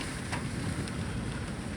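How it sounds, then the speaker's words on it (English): Heavy drizzle falls outside on a 50-degree day as a steady, even hiss of rain that does not let up, close and moderately loud, with no voices. "Still raining, but it's, you know, more of a heavy drizzle."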